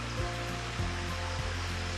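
A creek beside the Walls of Jericho trail near Scottsboro, Alabama, gives a steady close rush of flowing water, mixed with a low constant hum and faint soft thumps.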